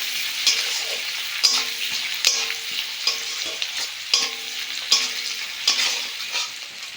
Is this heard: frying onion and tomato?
yes